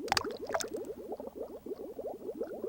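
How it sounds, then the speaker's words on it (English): An egg drops into the water tank in the Seaman video game, followed by a faint, quick run of bubbling gurgles that continues steadily throughout. "let's drop the egg in the tank"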